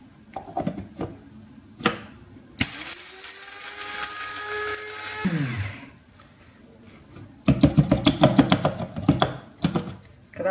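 An electric grinder whirs loudly for about three seconds as it grinds peppercorns and bay leaves. Sharp tapping and clicking sound close by before and after the motor runs.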